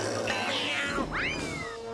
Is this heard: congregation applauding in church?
no